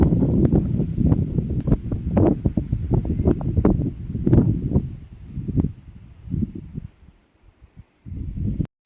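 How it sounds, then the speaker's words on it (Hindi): Strong, cold wind gusting and buffeting a microphone outdoors over hill farm fields, loud rumbling bursts that ease off near the end before picking up again. "कितनी तेज़ हवाएं चल रही हैं।"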